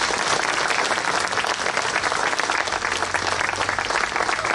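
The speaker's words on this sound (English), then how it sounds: "Can we now give them a big round of applause?" Loud, dense applause from an outdoor crowd at the Jadotville memorial in Assumption Road, steady and sustained throughout with no break, many hands clapping together close by.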